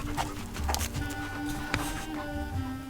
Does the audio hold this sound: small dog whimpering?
yes